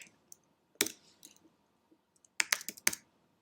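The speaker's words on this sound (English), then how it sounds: "You're going to want to type in this exact link." Computer keyboard being typed on, a few quiet scattered clicks followed by short bursts of keystrokes, close but faint in an otherwise silent room.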